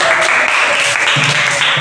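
Classroom applause during a teaching practice lesson, a short burst of hands clapping that fills the room steadily, fairly loud and close, with some faint voices underneath.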